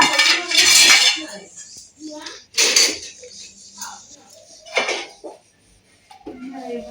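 Plates and dishes clatter and clink in a home kitchen while food is served, loud bursts of ceramic and cutlery knocks separated by quieter gaps, with people talking between them.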